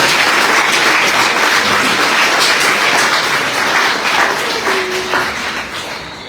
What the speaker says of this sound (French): je vous demande de les applaudir très très fort